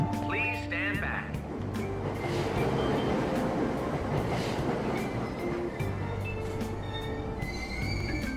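A subway train pulls out of a Tokyo-style station in Persona 5 Royal, a steady rolling rumble with rail clatter and tonal whines under station announcements.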